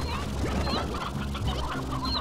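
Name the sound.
chickens clucking in the video game Slime Rancher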